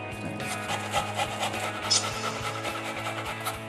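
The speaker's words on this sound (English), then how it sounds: "Peel and grate the ginger." Ginger is grated in a kitchen with a fast, even run of scraping strokes over a constant low hum, close and moderately loud.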